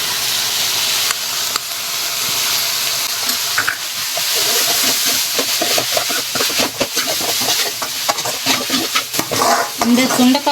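Onion and turkey berries sauté in a pan with ginger garlic paste: a close, hissing sizzle with a run of quick scraping stirs and clinks that grows busier toward the end.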